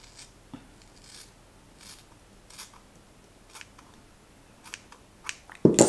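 Scissors snip through a fringe of hair in a home haircut: a series of quiet, crisp clicks scattered across several seconds, followed by a louder rustle at the end.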